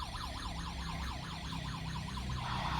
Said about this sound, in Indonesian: Tuh, ini sistem alarm saya yang di kamar juga bunyi